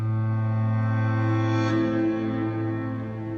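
A sustained grand piano tone plays backwards, slowly swelling inside a fully wet wash of reverb and holding steady without any attack.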